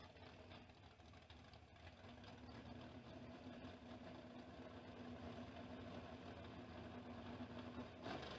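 A Camaro drag racing car's engine at a King of the Creek drag event, a steady, loud mid-to-low rumble that builds slightly over several seconds with a hum running through it and no talk.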